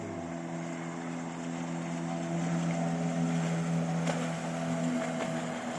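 A boat motor drones steadily and evenly throughout, with a constant hum and no voices.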